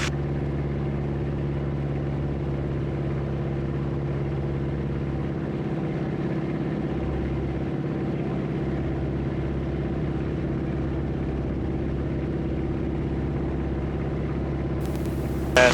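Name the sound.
small airplane engine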